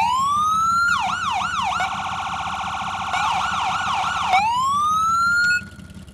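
A loud electronic video game police siren, toggled with a key, winds up, switches between a fast yelp and a wail, then winds up again before cutting off.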